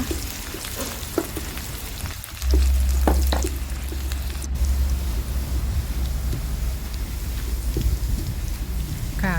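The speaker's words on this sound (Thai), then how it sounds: "กระทะร้อนเราก็จะใส่กระเทียม ไปเกียวให้หอมเลยนะคะ" Garlic hits hot oil in a wok and sizzles loudly, with a dense, steady frying hiss and occasional stirring scrapes, close up and without talk.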